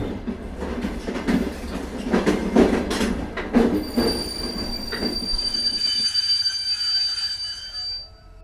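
Coromandel Express train wheels squealing on the rails, a loud, sustained high-pitched metallic screech over rumbling carriage noise that settles into a steady whine as the train slows.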